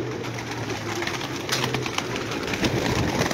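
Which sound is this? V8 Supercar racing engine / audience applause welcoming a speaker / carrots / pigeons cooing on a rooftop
pigeons cooing on a rooftop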